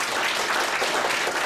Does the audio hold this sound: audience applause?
yes